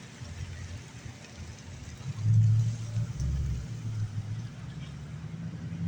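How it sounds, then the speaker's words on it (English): A loud car passes close by, its low engine rumble swelling to a peak midway and then holding as a steady drone, with no talking over it. "it's a loud car over here"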